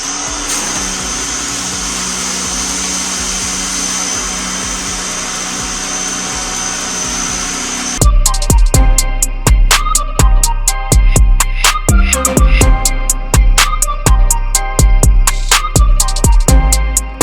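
A pressure-washer spray rinsing down a car, a steady loud hiss for the first half, then a busier stretch of repeated sharp bursts and knocks as the spray sweeps across the panels, with no talking.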